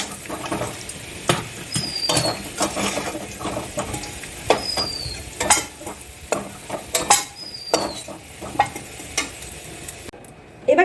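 Potatoes fry and get stirred in a pan, with scattered scraping and stirring clatter over a low background sizzle, close and moderately loud, and no talking.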